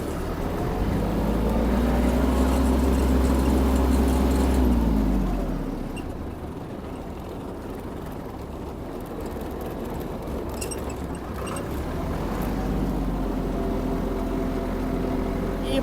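A Kubota GL-200 Japanese mini tractor engine runs hard at full throttle in eighth gear, a loud steady drone that eases off briefly mid-way then swells again, heard alone without talk.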